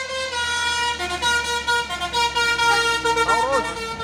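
A Chandra Dharma Raya bus sounds its telolet musical horn, loud and near, with a run of bright sustained tones that shift in pitch and swell, over a low engine rumble.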